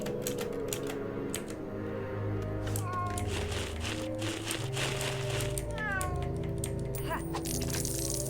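Cartoonish cat meows and scratchy digging effects from the LEGO Harry Potter: Years 1-4 video game play over steady game music, with a voice talking in the background.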